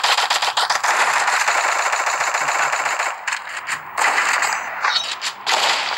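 Rapid bursts of video game gunfire rattle almost nonstop, loud and close, with a few brief pauses between the volleys.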